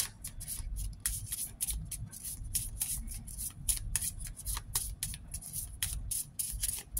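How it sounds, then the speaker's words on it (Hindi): A tarot card deck is shuffled by hand, a rapid run of crisp riffling card flutters repeating close up for several seconds with no talk. "So let's shuffle it a few more times"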